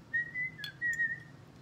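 A person whistles a catchy tune in clear sustained notes, with a brief pause in the middle, close and fairly quiet with no talking.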